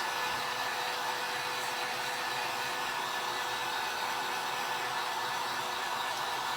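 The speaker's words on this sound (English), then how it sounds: "So we're gonna dry that with my heat gun here." A heat gun blows continuously on freshly painted light blue paint on a grapevine wreath hanger, a steady, even whooshing hiss of fan and air with no pauses.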